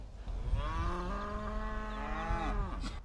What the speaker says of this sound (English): Cows have got something to say today.